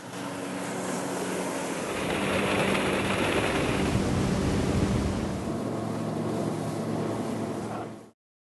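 A steady, loud rush of water and wind with a low engine drone as a Suncruiser SS210 aluminum pontoon boat cruises along, with no voices.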